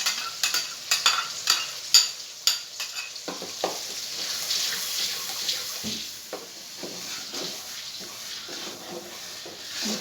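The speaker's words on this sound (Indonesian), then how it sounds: "Kita panaskan minyak, lalu kita tumis bumbunya." Spice paste for gado-gado sautéing in hot oil, opening with a run of sharp stirring knocks and scrapes that settle into a softer, steady sizzle with occasional taps.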